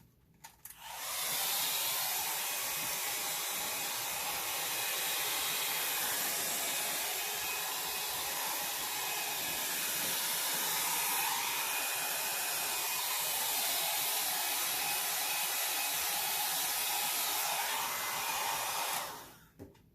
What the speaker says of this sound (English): And I'm going to use my blow dryer.